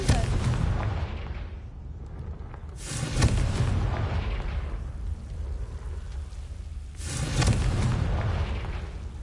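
Explosions from the Confringo fire spell in the video game Hogwarts Legacy, two big booming blasts a few seconds apart, each trailing off into rumble over continuous loud game noise.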